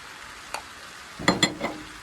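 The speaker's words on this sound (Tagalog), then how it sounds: "Tapos, ilagay natin ang ating tomatoes." Tomatoes tipped into a hot frying pan while cooking chicken bopis, giving a faint tap followed by a short burst of sizzling and stirring.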